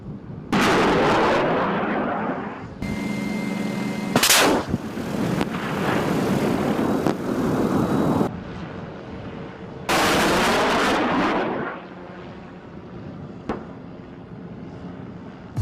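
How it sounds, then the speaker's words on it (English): Helicopter firing rockets, heard as a run of loud, sharp launch blasts separated by brief gaps, each burst a broadband roar that cuts off abruptly, with quieter rotor and engine noise between. "This is how firing rockets from a helicopter looks."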